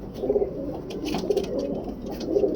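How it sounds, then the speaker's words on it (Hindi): A large male Imam Din pigeon coos up close, deep rolling coos repeating roughly every second in a steady rhythm, with light background rustle and no speech. "ये नर पट्ठा है, बड़ा कबूतर है"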